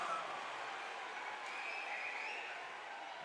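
An Angola high school basketball crowd cheering in a gym after a home player's reverse layup, a steady broadband roar of voices and applause holding at even loudness throughout.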